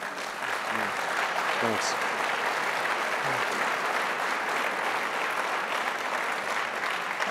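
Sustained applause from a lecture audience fills the hall, steady and broad throughout, while someone briefly speaks over it near the start.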